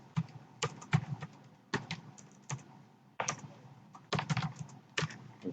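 Typing on a computer keyboard while entering text into a Java NetBeans web project, with bursts of close, crisp key taps separated by short pauses and no talk.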